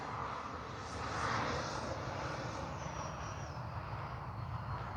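A Flyfans Baltic Bee RC jet, a 6S electric model with retracts and flaps, flies past with a loud, steady rushing whine that swells slightly and then holds, with no voices over it.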